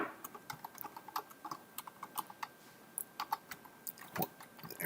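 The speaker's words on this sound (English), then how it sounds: "as I start typing in the address" Irregular clicks of typing on a computer keyboard, quiet and close, with short bursts of keystrokes and small pauses against a faint steady background hum.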